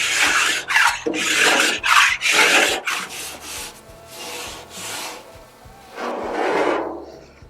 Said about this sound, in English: This is when this scraper is really nice